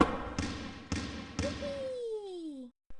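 Ball tossed into a basket in a preschool educational video game: three bouncy thumps about half a second apart, then a descending whistle-like cartoon effect, with a voice speaking faintly.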